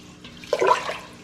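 Water poured from a cup into an Instant Pot while cooking rice: a short, soft splashing pour lasting under a second, close and alone.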